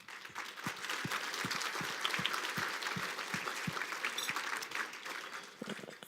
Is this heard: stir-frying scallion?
no